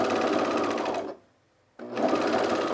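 Sewing machine stitching picot elastic onto underwear, running loud and steady for about a second, stopping briefly, then starting up again.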